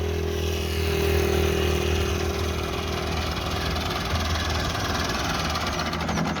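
A 385 model tractor's engine runs steadily throughout, a loud, close, continuous low rumble with a knocking idle beat and no talk.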